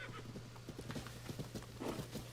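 Horse hooves clip-clopping in Zelda: Tears of the Kingdom, a quick, steady run of hoofbeats at close range over a low game hum, with a brief snort near the end.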